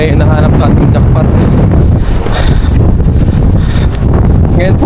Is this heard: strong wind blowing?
yes